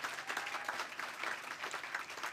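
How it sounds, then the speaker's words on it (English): An audience applauds at a launch event, a dense and fairly even patter of many hands clapping that holds steady, heard at a moderate distance. "So can we please give them a round of applause?"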